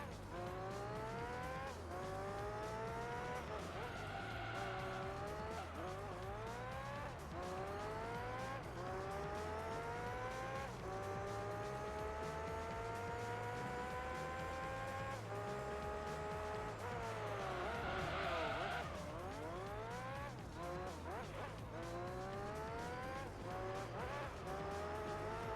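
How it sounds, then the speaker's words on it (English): Race car engines whine through repeated gear changes in Gran Turismo 3, with tyres squealing and skidding through corners over a continuous loud engine drone. "Tyres are getting a bit slippy again."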